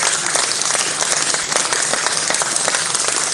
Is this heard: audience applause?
yes